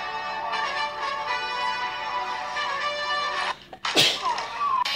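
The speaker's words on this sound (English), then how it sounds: "You just sneezed" A single sharp sneeze bursts out near the end, close and loud, after several seconds of steady bright background noise.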